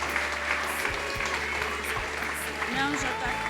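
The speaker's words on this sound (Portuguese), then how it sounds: "Dê um aplauso ao Senhor." A church congregation claps steadily during a worship service, a dense patter of many hands close by, with voices talking over it.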